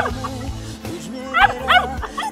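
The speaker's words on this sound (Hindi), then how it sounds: "उसके बाद इसको जाना था घर और ये घर के लिए भौंक रही थी।" Labrador dog barking and whining to go home indoors, several short yips and barks in quick bursts, close and fairly loud, with a low hum underneath.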